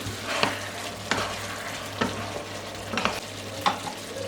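Beef stir-fry with spices and red pepper flakes sizzles steadily in a pan, broken by sharp stirring scrapes roughly once a second, close and continuous.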